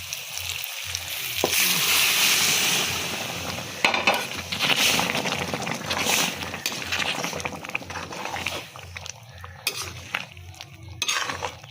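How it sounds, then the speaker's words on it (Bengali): Boiled peas tipped into a hot frying pan set off a loud, dense sizzle that gradually thins, broken by utensil clinks and spoon scrapes toward the end. "সিদ্ধ মটর আগে থেকে রাখা ছিল, এবার আমি মটরটাকে ঢেলে দিচ্ছি"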